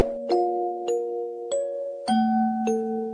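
A bright chime rings out in a sequence of short bell-like tones, each struck note lingering before the next, clear and alone.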